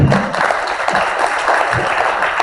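Audience applause at a CROSS event in Yogyakarta: a dense, steady wash of many hands clapping, fairly loud and continuous throughout with no break.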